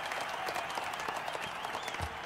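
Applause and clapping from a crowd at a dance contest, a steady wash of many hands that stays fairly faint and continuous throughout, with no speech over it.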